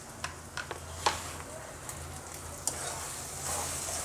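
Egg and green vegetables frying and being stirred in a pan with turmeric and chili powder, a soft steady sizzle broken by a few sharp clicks and scrapes of the spoon, close and moderately quiet.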